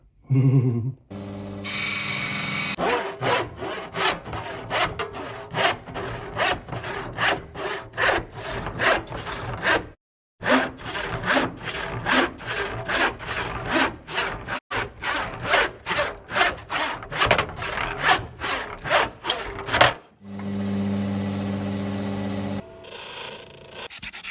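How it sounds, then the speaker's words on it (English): A saw cuts a shape out of wood in a long run of rapid, rhythmic strokes, loud and close, pausing briefly partway through before sawing resumes, with no talking. "I can now take that over to the saw and cut it out."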